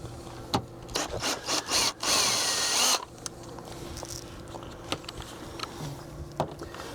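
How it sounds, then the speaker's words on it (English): A cordless drill or screwdriver backs screws out of the end caps on an RV roof seal, in short bursts of whirring with one longer run, between quieter scraping and handling noises. "Each cap's going to have anywhere from 3 to 4 screws in it, and you're just simply going to remove those screws."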